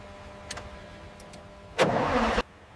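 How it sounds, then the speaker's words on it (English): An RG-31 Nyala armored vehicle's engine, freshly rebuilt after sitting abandoned in a forest for 28 years, cranks in a loud burst of about half a second after a few faint ticks, then cuts off abruptly. "Engine fires up perfectly on first turn, all instruments reading nominal after full rebuild."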